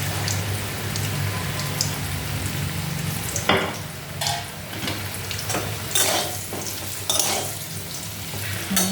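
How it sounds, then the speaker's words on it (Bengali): Boiled potatoes fry in hot oil for an egg curry, a steady close sizzle with brief louder bursts and stirring scrapes, no talking. "এটা সিদ্ধ করে পরে ভাজলাম তেলের মধ্যে।"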